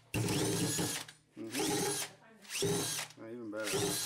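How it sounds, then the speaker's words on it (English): An electric drill motor turning a pork-pulling attachment at slow speed whirs in four bursts with short pauses between, close and fairly loud, with a low steady drone under a bright whine. "The drill motor's on slow right now."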